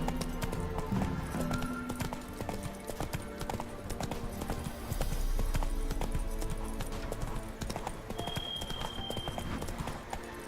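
A horse being ridden over ground near a pond, hooves clip-clopping in a steady close rhythm throughout with background noise and faint vocal sounds.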